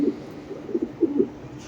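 Racing pigeons coo in a few soft, low bursts close by, a short cluster of throaty calls with brief pauses between them.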